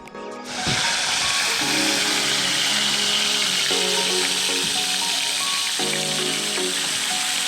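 Red Sea goatfish (istaroz) sizzles loudly in a frying pan at a seaside camp, a steady close hiss of hot oil that holds throughout after a brief start.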